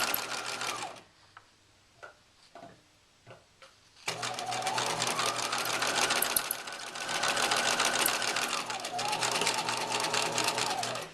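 Sewing machine stitching on paper: a brief motor run, then several seconds of soft clicks with a voice talking, then a long loud steady whir of stitching.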